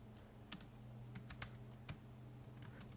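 Commands are typed on the keyboard of an Acer C720 Chromebook: quiet, scattered key taps in an irregular rhythm over a low steady hum.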